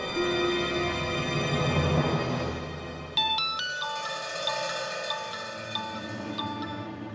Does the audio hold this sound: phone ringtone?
yes